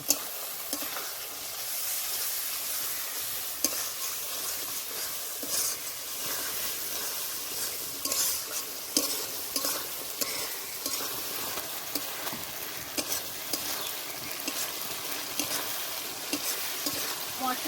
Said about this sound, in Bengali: এইবার দিয়ে দেবো টমেটো কুচি এবার ভালো করে মশলাটা কষে নেব